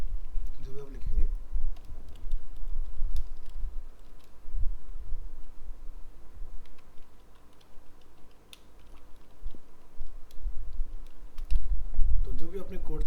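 Rapid, uneven clicking of a computer keyboard as HTML code is typed, a steady run of soft keystrokes lasting over ten seconds with a low background hum and a brief lull near the middle.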